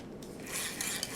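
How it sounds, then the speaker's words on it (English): Adhesive tape is pulled off the roll and pressed along the bottom of a wrapped Christmas candy holder, giving a brief close rasping rub over steady rain. "add some tape along the bottom,"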